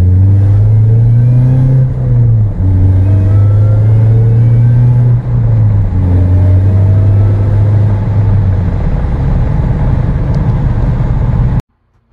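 Supercharged 2.4L Ecotec engine in a Chevy HHR revving loudly under throttle around 3,000 RPM, a steady close-up drone with pitch rising and dipping through several pulls before cutting off abruptly near the end.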